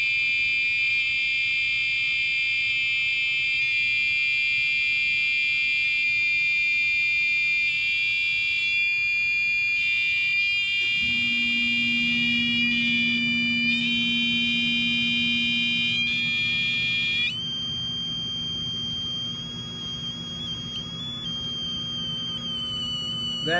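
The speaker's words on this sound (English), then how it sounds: "You hear that oscillation? Listen to the sound. That's something turning on and off." A 555 timer switching circuit oscillates wide open, giving a loud, steady high-pitched electronic whine that shifts in pitch as it runs. A lower buzzing tone joins partway through, and no one speaks.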